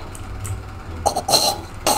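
A person coughs in short, rough bursts, a few harsh hacks close up over a low background hum.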